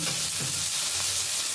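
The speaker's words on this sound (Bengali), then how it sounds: "বেগুনটাকেও ভেজে নেব।" Eggplant and bitter gourd frying together in a pan give a dense, even hiss of sizzling oil that holds steady and close for the whole moment.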